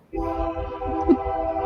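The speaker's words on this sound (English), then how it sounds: "There's the horn." Union Pacific train horn sounding as a train passes through town, a steady sustained blare with stacked tones starting abruptly and holding loud and near over low rumble.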